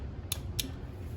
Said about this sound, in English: You'll hear a very distinctive click sound. That's just me turning it back like this.